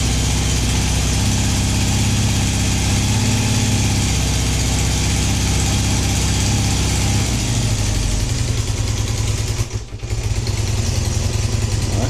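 A cold engine idles roughly and hesitantly with no choke, a steady loud low chugging that stumbles and dips briefly near the end before settling back into its uneven tick-over.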